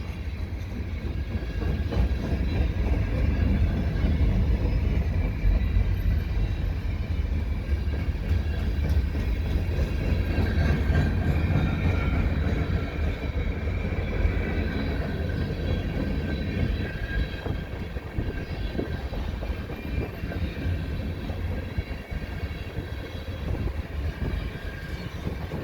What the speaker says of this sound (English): the two locomotives up front look like they were ES44s